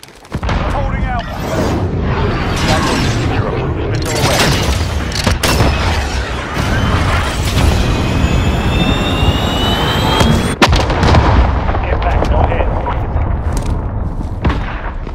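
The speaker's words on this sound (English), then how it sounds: "Cruise missile, go for launch." Cruise missile strike in Call of Duty Modern Warfare, a roaring jet-like rush followed by heavy booming explosions and scattered gunfire, with radio chatter running over the din.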